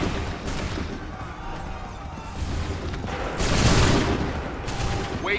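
A musket volley in Assassin's Creed 3 Remastered on Xbox One, with bursts of crackling gunfire and booms, the heaviest swell midway, set against a rumbling battlefield background.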